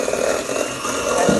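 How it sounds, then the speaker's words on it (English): Electric whisk whirring steadily as it beats cupcake batter in a bowl, a continuous buzzing motor tone with small shifts as the beaters move through the mix. "using your electric whisk, okay, we're going to mix it up."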